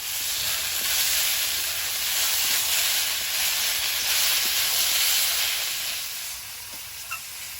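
Pennywort leaves with ground cumin sizzle loudly in a hot pan, a broad steady hiss that swells and eases slightly as they are stirred, ending with a couple of small clicks.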